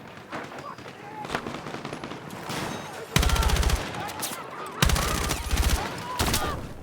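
Video game gunfire during a sniper engagement: loud, rapid bursts of shots crackle in two heavy volleys over a busy battlefield background, with some voice-like sound mixed in.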